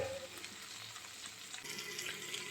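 Tomatoes cook gently in a pan over low heat for a tomato mash, giving a steady soft sizzle and bubbling that runs throughout, with occasional faint stirring scrapes.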